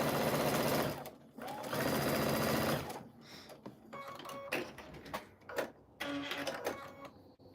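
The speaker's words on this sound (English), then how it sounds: "put my machine in the center. And here we are. And then I just sew right across." A home sewing machine runs a quilting seam straight across fabric in two sustained bursts of steady motor whir, followed by softer clicks and handling noises as the stitching stops.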